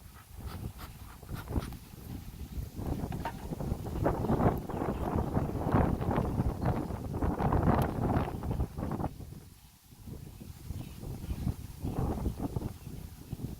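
Gusty wind buffets the microphone outdoors at a beehive, in uneven roaring surges rising and falling over several seconds with a brief lull near the end.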